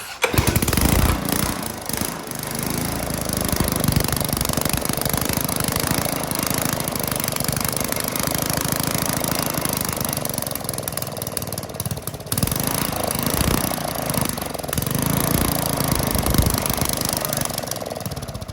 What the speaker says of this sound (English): Okay, well, it runs not well.